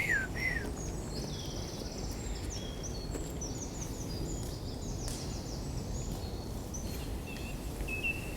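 A song thrush sings repeated, clear high phrases within a dawn chorus, moderately close, over a steady low background rumble, with no voices.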